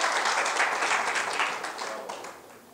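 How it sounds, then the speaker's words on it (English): A crowd applauds with dense, steady clapping that gradually fades toward the end. "Give a round of applause to our volunteers that helped out."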